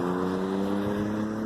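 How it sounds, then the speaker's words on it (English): A car engine revs in a parking lot, a loud steady drone with strong low harmonic tones holding close and continuous throughout, with no voices over it. "There's like an engine revving or something."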